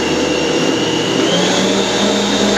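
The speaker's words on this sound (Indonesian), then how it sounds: "Kita kocok dengan kecepatan 2 di mixer saya ini sampai dia itu kalis ya" An electric stand mixer beating purple sweet potato donut dough at speed 2, giving a steady close motor whine and hum with a constant, even drone, no voices.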